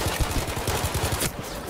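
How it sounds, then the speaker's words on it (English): Rapid machine-gun fire in the video game Battlefield V, a steady burst of about a dozen close, punchy shots that cuts off abruptly near the end. "Who's shooting?"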